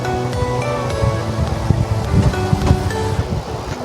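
Water rushing at a waterfall in the jungle near a Shiva temple, a steady, loud broadband roar with wind-like hiss, continuous and close, with no talking.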